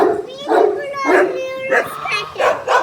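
A dog at a family home lets out a series of loud, drawn-out howls and yelping cries, about five close, rising and falling calls in quick succession.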